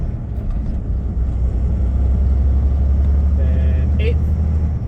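A 10-speed semi truck climbing uphill with its Jake brake engaged, a loud, steady low diesel rumble throughout with brief higher tones near the end as it upshifts.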